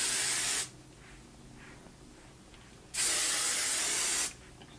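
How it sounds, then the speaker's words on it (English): Hairspray from an aerosol can sprayed onto curled hair, two long steady hissing bursts close up with quiet pauses between them. "I'll spray upside down and kind of pull the curls like up"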